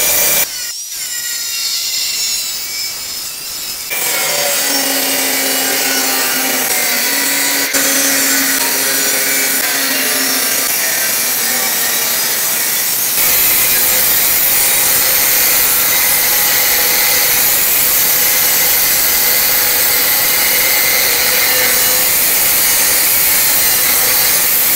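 Metal pipe for a Rajdoot motorcycle's exhaust chamber is cut with a power tool, producing a loud, harsh, continuous grinding rasp that rises in intensity partway through. Nobody speaks over the close, unbroken cutting noise.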